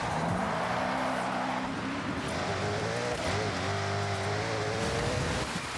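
Supercar or hypercar engine in a racing video game, a steady loud drone with rising and falling harmonic tones as the revs shift, continuous throughout with no talking.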